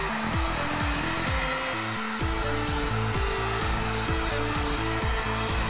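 A heat gun blows steadily and loudly while warming leather preserver on leather, a continuous rushing hum with a pulsing, wavering tone.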